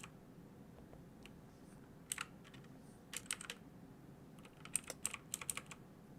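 Computer keyboard keys clacking up close in short irregular bursts of clicks, separated by quiet pauses over a faint steady hum.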